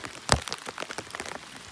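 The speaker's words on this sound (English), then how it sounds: "It's raining." Rain falls in the Appalachian woods, scattered drops pattering and tapping close by on nearby surfaces with a sharp knock early on, no voices.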